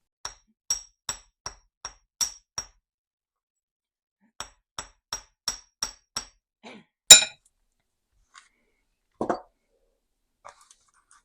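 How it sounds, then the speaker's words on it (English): Sharp metallic hammer taps on wire in two quick rhythmic bursts of about seven strikes each, followed by a few scattered clinks and a rustle, close and clear. "And then hammer it into shape."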